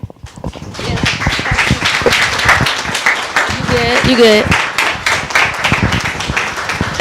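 Audience at the end of a lecture on Black agriculture breaks into loud, dense clapping that continues for several seconds, with cheering voices and a few spoken words mixed in.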